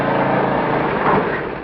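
An old-time lawnmower engine drones steadily and fairly loud for a short stretch, a continuous motor buzz that fades slightly at the end, with no talking.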